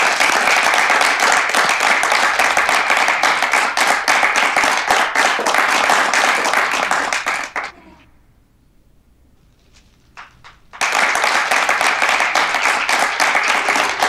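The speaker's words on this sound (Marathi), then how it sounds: "टाळ्या चालू राहू द्या." Audience applause at a Marathi spoof prize-announcement event: dense, loud, steady clapping that drops out for about three seconds, with a few scattered claps in the gap, then surges back just as strongly.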